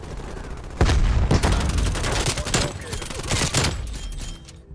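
An AK-74u fires in Call of Duty: Black Ops Cold War, loud rapid automatic bursts in several clusters that boom close up, with a player talking over the gunfire.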